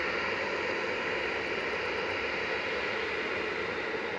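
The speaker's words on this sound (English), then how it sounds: "First one on 23 left is Ryanair 3226 to Oslo Talk." A Ryanair Boeing 737-800 lining up on runway 23 left at Manchester Airport for a departure to Oslo gives off a continuous, even jet engine hiss and rumble, alone and unbroken.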